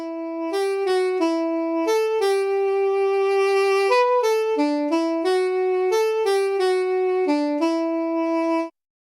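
A soprano saxophone voice from the free DSK Saxophones software instrument plays a legato melodic phrase of sustained notes, clear and bright, with no talking over it.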